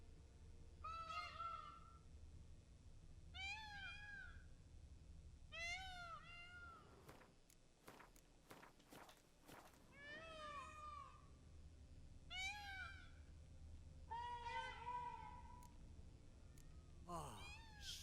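A cat meows in The Witcher video game, repeatedly in drawn-out, evenly spaced cries, with a brief burst of sharp clicks in the middle and faint background hum.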